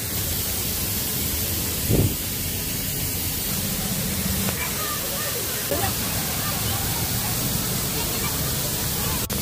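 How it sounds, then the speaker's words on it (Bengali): Artificial rain pours in the rain forest area of Eco Park, Newtown, a dense, loud, unbroken hiss of falling water, with a voice faintly audible beneath it. "দেখো সামনে কত জোরে বৃষ্টি হচ্ছে।"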